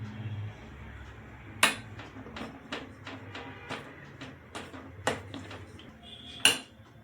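A spoon scrapes and knocks against a pan while chocolate is stirred into cream for ganache, giving sharp intermittent clinks spaced irregularly over a quiet background.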